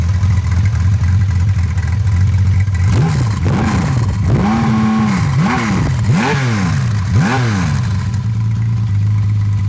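A 1979 Kawasaki KZ1300 six-cylinder motorcycle engine idles steadily, then the throttle is blipped several times in quick revving bursts before settling back to a smooth idle.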